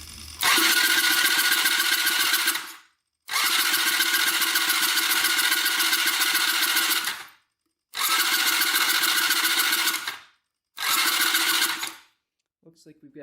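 A Honda ATV engine with a bent valve, cranked over with the throttle held open for a compression test: four long, steady cranking bursts of about two to three seconds each, separated by brief pauses, loud and close.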